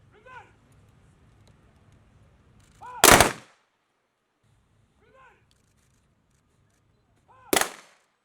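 Two loud, sharp volleys of military gun salute fire ring out a few seconds apart at a funeral for slain Nigerian military officers, alone and fairly near, with faint voices and rustling in between.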